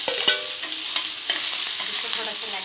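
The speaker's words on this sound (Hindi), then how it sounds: "इसको थोड़ा चलाएंगे, एक दो मिनट के लिए ऐसे ही चलाते रहेंगे।" Green onions with turmeric are stirred and fried in a pan, a bright continuous sizzle with a few light scraping strokes, close up.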